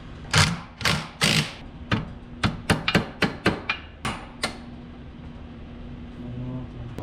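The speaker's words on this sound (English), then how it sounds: "You put these in, you always want to pound them in." A washer is hammered into place on a 1938 Plymouth truck. About a dozen sharp metallic strikes ring out close by: a few heavy blows first, then a quicker run of lighter taps that stops after a few seconds.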